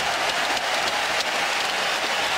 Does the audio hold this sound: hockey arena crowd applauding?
yes